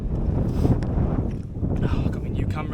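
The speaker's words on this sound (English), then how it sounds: "Weather's been on and off so far, like it's definitely windy" Wind gusts buffet the microphone on a hillside in the Lake District, a steady low rumble with rustling and faint movement sounds, while a person talks over it.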